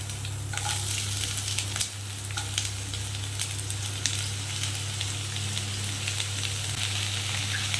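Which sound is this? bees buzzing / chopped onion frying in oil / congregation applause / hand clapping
chopped onion frying in oil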